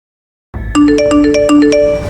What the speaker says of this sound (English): Phones chime at once, one video drops